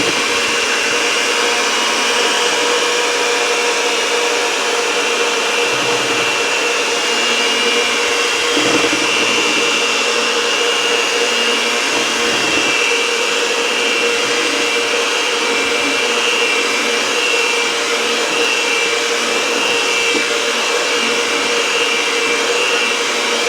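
An electric mixer running on low, blending flour into pumpkin roll batter, gives a steady loud whirring drone that continues without a break, with faint shifts in pitch as the beaters move through the bowl.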